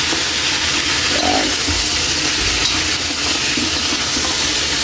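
Pork for humba sizzles and crackles as it is sautéed in a hot pan, a dense, loud, continuous frying hiss with occasional stirring bumps. It is close-up throughout, with no talking.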